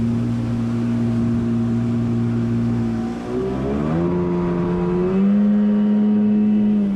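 A Yamaha Waveblaster 2 personal watercraft engine holds a steady drone, then revs upward in stepped surges, its pitch climbing and settling higher; loud and close throughout, with no talking.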